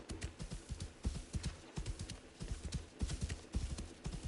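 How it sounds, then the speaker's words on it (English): Horse hooves clip-clopping in the video game Assassin's Creed Shadows as a steed is ridden, a steady galloping rhythm of quick hoofbeats, fairly quiet, with no talking. "I'm gonna take my steed so I don't have to run,"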